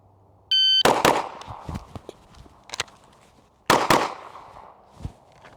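Four gunshots fired in a shooting drill, preceded by a short shot-timer beep, arriving as two quick loud pairs close by, with faint echoes and no talk.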